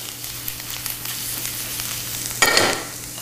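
Garlic sizzling in hot olive oil in a sauté pan, a steady close crackle with a sudden louder burst of frying partway through.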